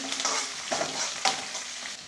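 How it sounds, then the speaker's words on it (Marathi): Curry leaves and peanuts sautéing in a pan, a close, steady sizzle broken by a couple of quick scraping stirs. "कढीपत्ता, शेंगदाणे चांगलं परतून घ्यायचं आहे।"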